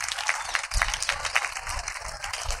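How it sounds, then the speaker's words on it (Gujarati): Applause at a teacher's retirement ceremony in a high school hall, a short, moderately loud burst of clapping with some voices mixed in. "જોરદાર તાળીઓથી વધાવી લઈશું."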